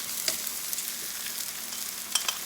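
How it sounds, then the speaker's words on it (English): Peppers sautéing in a hot pan for beef fajitas, an even close sizzle with a few sharp clicks of a utensil against the pan, no voices. "I'm just gonna add it here real quick and let it saute too."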